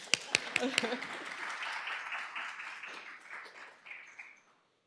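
A morning school gathering opens with a few sharp, loud claps, then a softer scattered round of applause from the audience that thins out and fades to silence.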